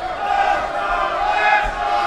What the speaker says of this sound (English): You can hear the crowd here in Wichita